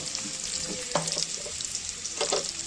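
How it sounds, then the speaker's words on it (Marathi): Onion sautéing in a pan for vegetable noodles, a steady close sizzle with a few brief stirring scrapes and clinks, no talking. "कांदा तर आता हे परतून घ्यायचंय"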